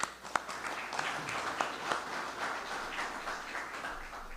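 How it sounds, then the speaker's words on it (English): Audience applause at a Florida bill signing, a dense patter of many hands clapping at moderate distance, steady throughout with a few sharper claps standing out. "Give yourselves a round of applause on that."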